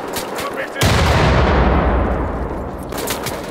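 Grenade explosion in the shooter Wolfenstein: The Old Blood, a sudden loud broadband boom that rolls on and slowly decays over a couple of seconds, with faint game noise before and after.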